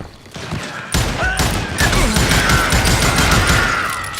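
Loud, dense gunfire in the Wild West shooter Call of Juarez: Gunslinger, starting quietly, then a sudden burst into sustained volleys of close shots and crashes until the end.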